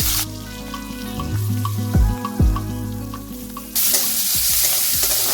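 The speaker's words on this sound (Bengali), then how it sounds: "জিরে ফোড়ন দিয়ে পেঁয়াজগুলো দিয়ে দিচ্ছি" Square-chopped onions tipped into hot oil with a cumin tempering sizzle steadily and close up, with a few low thuds and scraping stirs partway through before a brighter, louder hiss takes over near the end.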